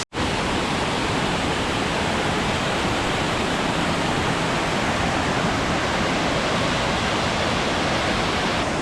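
Tlai Falls, a waterfall in Cherrapunji, Meghalaya, swollen after heavy overnight rain, pours in a steady, dense roar that stays loud and unbroken throughout with no voices.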